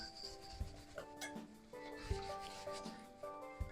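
A hand whisk beats Yorkshire pudding batter in a bowl, giving soft scraping, rubbing strokes in an irregular rhythm with light taps against the bowl, close and moderately quiet.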